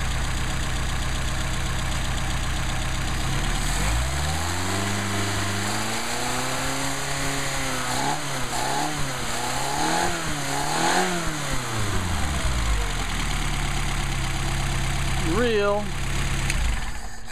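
Mercedes 190SL engine with Solex carburetors running at idle with steady low rumble, rising into a few rev blips in the middle before settling back, with people talking over it.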